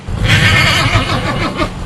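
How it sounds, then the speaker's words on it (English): Horse at a fire evacuation shelter during the 2007 Southern California firestorms, whinnying in fright: a loud, close, shaky neigh with quavering rises that fills the short moment. "You can hear it in the horse's whinny."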